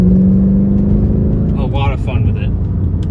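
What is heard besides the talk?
Mercedes C55 AMG M113 V8 engine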